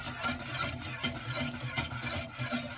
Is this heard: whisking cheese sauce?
yes